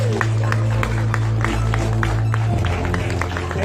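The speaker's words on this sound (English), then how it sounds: "Please help me welcome with a big round of applause, Mr. June Guevara." Audience clapping to welcome a presenter at a Samsung QLED TV launch event in a packed venue; rhythmic, evenly spaced claps ring out over loud background music with a steady low tone.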